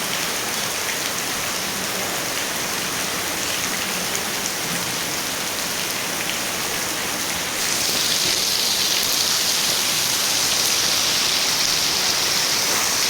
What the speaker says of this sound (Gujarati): રીમ રીમ રીમ રીમ વરસાદ પડે